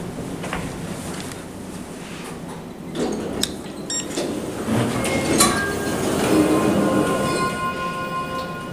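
A Schindler 3300 traction elevator door slides open in a hotel, a steady rumbling glide with faint clicks and rising chime-like tones, heard up close with no talk.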